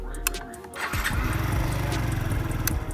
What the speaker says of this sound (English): This is your engine start.